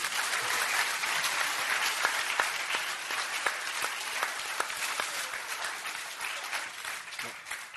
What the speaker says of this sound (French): je pense que ça mérite tous les applaudissements